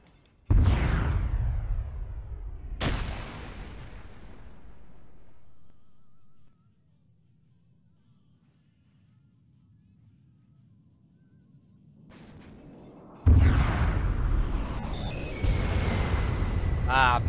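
A frag grenade detonating in a Vietnam-era video game: a heavy boom opens, followed by a sharp second blast and a long rumbling decay, then another loud explosion burst late in the clip.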